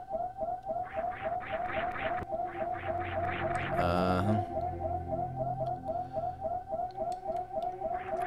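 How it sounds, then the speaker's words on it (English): Repeating electronic alarm siren in the video game Super Metroid, a steady pulsing tone with rhythmic beeping bursts cycling continuously, interrupted briefly by a louder game sound effect midway. "That freaking siren."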